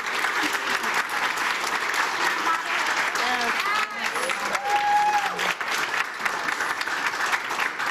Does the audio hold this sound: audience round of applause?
yes